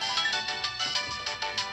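A phone ringtone chimes in a steady repeating electronic pattern, fairly loud and unbroken across the whole moment, with no voices over it.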